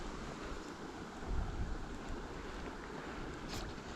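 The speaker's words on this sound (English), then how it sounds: "wow, that wind." Wind gusts by a small stream, a steady broadband rush with low buffeting rumble from wind hitting the microphone, faint and continuous.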